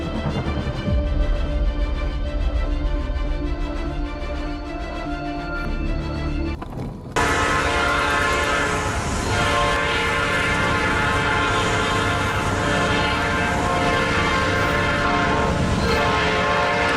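A loud train horn blares with steady, sustained tones while a speeding train rushes past; the sound cuts abruptly about midway, then resumes at full, continuous strength.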